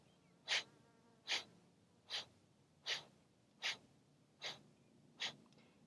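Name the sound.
forceful exhales through the nose in yoga breathing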